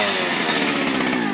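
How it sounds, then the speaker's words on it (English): A Stihl BT 121 one-man post auger drills into the ground, its small petrol engine running loud and close in a steady, unbroken buzzing drone with no voices. "you can't use a one-man post auger and drill a hole, this machine does it"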